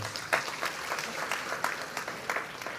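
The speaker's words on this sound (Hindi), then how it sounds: "मैं चाहूंगा तालियों से उनका स्वागत कर दें।" Crowd applause at a political party gathering for an Ambedkar Jayanti event in Shahjahanpur, welcoming Dr. B.P. Singh: scattered, uneven clapping with distinct sharp claps over a murmuring room.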